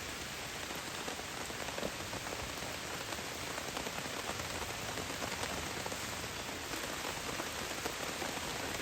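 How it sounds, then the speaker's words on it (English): Steady heavy rain pattering on a taut tarp overhead at a campsite, a dense continuous drumming with no voices. "Really smart, because it is pouring rain."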